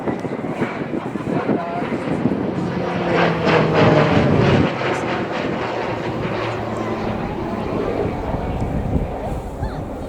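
A Shorts Tucano T1 turboprop trainer performs a roll during an air display at RIAT 2019, its engine droning loud and steady with some wind buffeting, under a commentator's talk.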